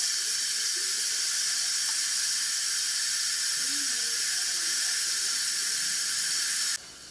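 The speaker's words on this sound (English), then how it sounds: "let's go ahead and release any remaining steam" An Instant Pot vents its remaining steam in a loud, steady close hiss that holds unbroken for several seconds before dropping off abruptly at the end, with no talking over it.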